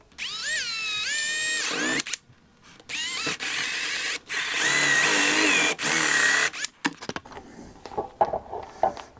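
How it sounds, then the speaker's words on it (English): A power drill re-drilling holes for Himiway e-bike fenders, whining in several loud bursts with pitch rising and falling between short pauses, then scattered clicks and handling noises at the end; no talking. "I'm going to re-drill a couple holes."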